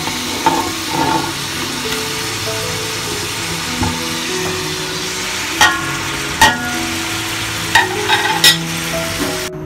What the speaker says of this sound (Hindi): हल्का सा भूने गरम मसाले में